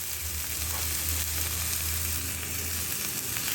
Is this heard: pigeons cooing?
no